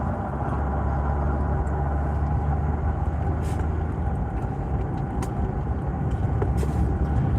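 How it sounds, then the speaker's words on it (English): A noisy car engine while driving, a constant loud rumbling drone with road noise, steady throughout with no talking. "just trying to take it easy on the car since it's making so much noise"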